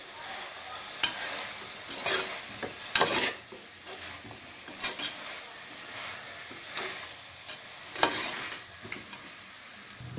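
A spoon stirs a biryani masala mixture with chicken masala in a pan, giving faint sizzling and a series of scraping strokes against the metal at an irregular rhythm.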